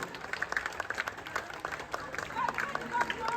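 Crowd clapping at a women's Govinda troupe Dahi Handi event, uneven scattered applause over a murmur of voices, moderately distant and soft, continuing throughout.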